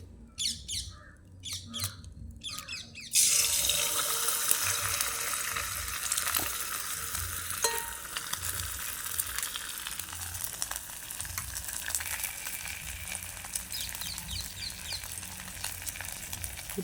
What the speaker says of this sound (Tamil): இப்போ எண்ணெய் நல்ல வடிவாக கொதிச்சுட்டு நான் வந்து முட்டையை அடித்து ஊற்ற போகிறேன்